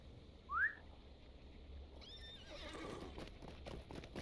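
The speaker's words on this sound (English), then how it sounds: "Get on our own horse." A horse in a fantasy video game (LOTRO) gives one bright whinny. After a quiet pause, hooves begin a soft clip-clop in a steady rhythm, with a faint whistle-like tone layered in.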